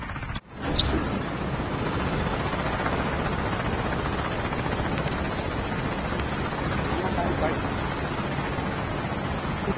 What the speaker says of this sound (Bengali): কি বলো একটা হেলিকপ্টার উঠতেছে